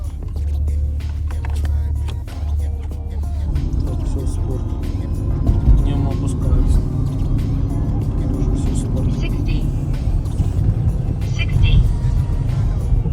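A 2012 Porsche Cayenne GTS with a 4.8 engine drives gently in a calm mode, its low engine rumble steady and rising slightly under road noise, with people talking over it.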